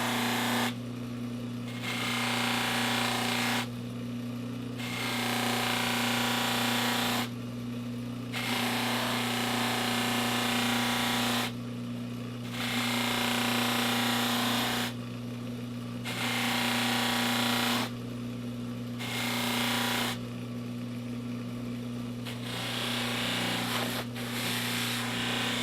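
Restoration parts are buffed against a spinning polishing wheel loaded with red compound, with long stretches of steady whirring friction broken by short pauses under a constant motor hum, and no talking.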